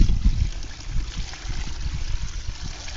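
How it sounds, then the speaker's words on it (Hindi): Cow urine poured over cow dung while mixing jeevamrit for organic farming, a close, continuous low splashing trickle with gurgling bursts. "इसके बाद हम इसके ऊपर गौमूत्र डालेंगे।"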